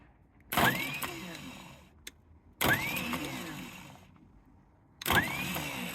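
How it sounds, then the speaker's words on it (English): A farm tractor's starter motor cranks three times with the ignition key, each a loud whirring grind of about a second that fails to catch, with quiet gaps between attempts. "Turn the ignition on, get my key."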